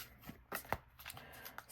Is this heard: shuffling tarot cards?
yes